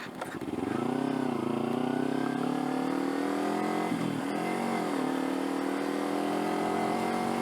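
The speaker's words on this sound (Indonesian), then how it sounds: "Enak sih motornya buat ini akselerasinya sabi banget" Kawasaki Ninja 250 FI, a fuel-injected two-cylinder motorcycle, accelerating on a city road: a loud, close engine drone climbing steadily in pitch, dipping briefly at a gear change near the middle, then rising again smoothly.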